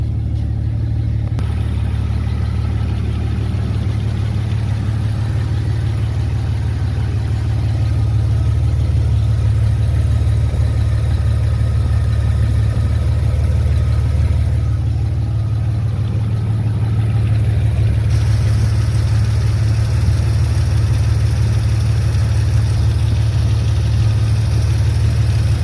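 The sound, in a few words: engine running in 1985 Chevrolet S10 after manual swap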